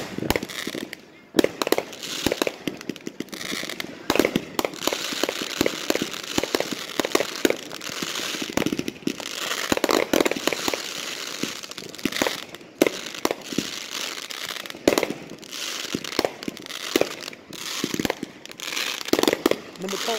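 Fireworks and firecrackers burst in a dense, rapid crackling barrage, sharp pops and bangs overlapping almost continuously at moderate distance, with voices faintly present beneath.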